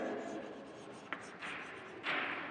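Writing during a social studies lesson, a pen or marker scratching in a few strokes close by, with a voice speaking faintly underneath.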